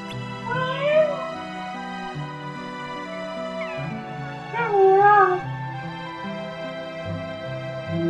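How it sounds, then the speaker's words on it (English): A cat in the video game Kingdom Hearts 2 gives two drawn-out, wavering meows over steady background game music. The meows come a few seconds apart and sound clear and close, with no talking. "Meow. Meow."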